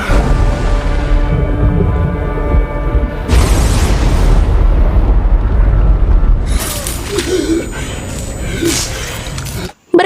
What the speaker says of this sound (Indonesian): ia berhasil selamat dari ledakan